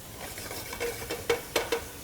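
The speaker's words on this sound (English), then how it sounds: "Turkey goes in the pan." Ground turkey dropped into a pan over medium-high heat, giving a soft, close sizzle with a few sharp utensil taps and scrapes over about two seconds.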